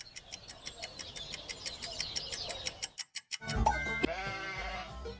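A sheep bleats from a farm setting, with a regular series of clicking ticks running underneath before a wavering bleat stands out near the end.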